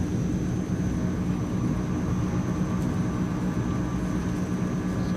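Steady, loud drone of the Transall C160's twin turboprop engines in Microsoft Flight Simulator just after takeoff, a constant low roar with a faint tonal whine and no talk over it.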